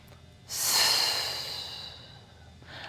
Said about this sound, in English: Deep breath in, exhale, stretch.